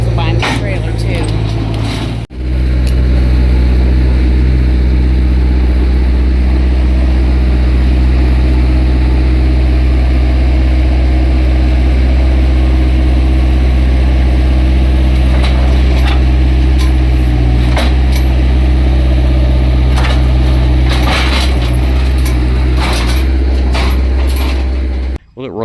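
A skid steer loader's engine runs steadily and loud at close range, a constant mechanical drone with rattles and clanks on top, after a brief cut near the start.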